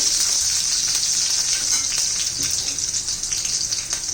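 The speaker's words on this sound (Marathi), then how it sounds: "लसूण बारीक चिरून घातलेले आहे हिरवी मिरची हे चांगलं परतून घेऊ" Finely chopped garlic and green chilies with cumin sautéing in hot oil in a pan for paneer bhurji, a close continuous sizzle with faint stirring scrapes.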